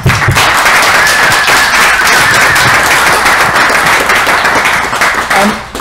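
An audience claps for guest speaker Lucas at a talk, a loud, close burst of applause with sharp individual claps that holds for several seconds and then thins out.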